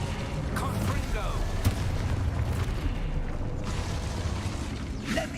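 Confringo fire-blast spells in the Hogwarts Legacy video game, dense rumbling booms and crackling bursts over a steady loud game soundscape, with brief thumps and sweeps layered throughout.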